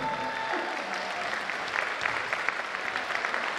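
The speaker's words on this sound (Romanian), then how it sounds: "Aplauze!" A crowd applauds at a dance awards show, with steady, dense clapping of moderate loudness and no break.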